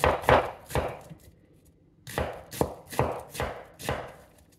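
Knife chopping through an onion on a cutting board with the root end left on, two bursts of sharp, close knife strikes in a steady rhythm separated by a short pause, no voices.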